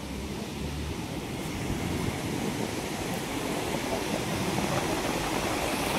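The flooded Maan river near Wadegaon rushes past in a steady, broad roar, loud and unbroken throughout, with wind buffeting the microphone.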